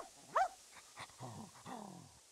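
A dog in the PlayStation game Tenchu 2 lets out a short high whine followed by a few soft whimpers and low yelps, quiet and close, without talk.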